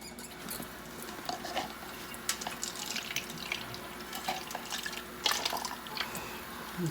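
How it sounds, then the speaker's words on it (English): Warm water is poured steadily into a container indoors beside a windowsill, a constant close splashing patter with small drips and clinks, no voices. "Now, warm water."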